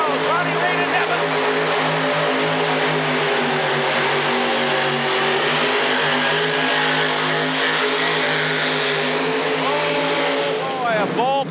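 A modified pulling tractor with two engines coupled crankshaft to crankshaft, making about 3,000 horsepower, roars at full power at a 1986 tractor pull, a sustained loud drone with rising revs at the end, while an announcer talks over it.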